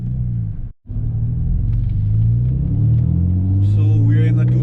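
A 2001 BMW Z3 3.0 with a muffler delete drones with a deep, steady low rumble while driving on a mountain road, briefly cutting out before the engine note rises and holds.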